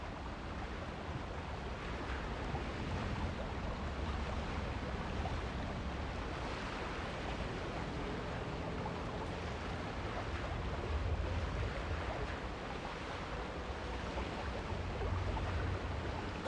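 In the Alan Wake 2 video game, a waterfall rushes as a steady, fairly faint broadband roar that never lets up, with no voices.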